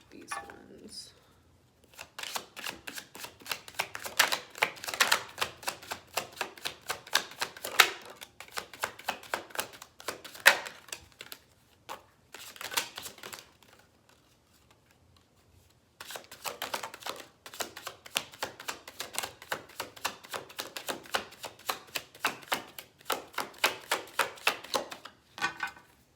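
Stiff tarot cards being shuffled by hand, with repeated bursts of rapid, crisp flicking and riffling close up. The bursts are separated by short pauses and one longer silence in the middle.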